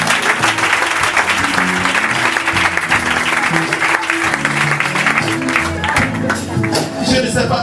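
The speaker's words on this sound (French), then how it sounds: "acclamez le Seigneur" Church congregation applauding the Lord during a worship service, with dense sustained clapping from a large crowd throughout, steady and loud, mixed with voices and some music underneath.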